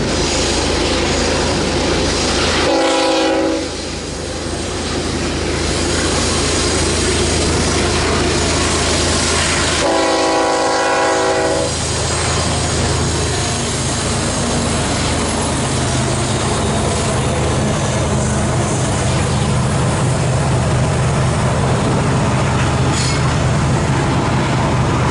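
A CN train, pulled by GP-series diesel locomotives, rumbles past loudly and steadily near Granger, Alberta, with a continuous roar of rolling wheels and a couple of brief horn-like tonal bursts.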